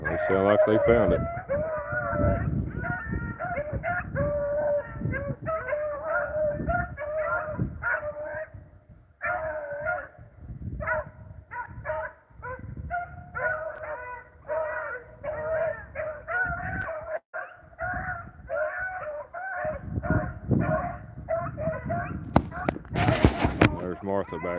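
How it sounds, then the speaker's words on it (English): Rabbit hounds bark and yip repeatedly outdoors while trailing a rabbit, their calls overlapping in an irregular chorus at moderate distance, with people talking intermittently over them and a rooster crowing somewhere in the background. "when she heard them dogs barking"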